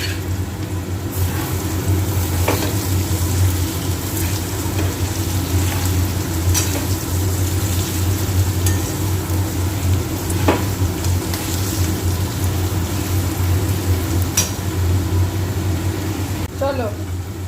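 Potatoes frying and being stirred in a pan with ginger, green chilli and cumin, giving a steady close sizzle with occasional scrapes and clinks of a spatula across the whole stretch.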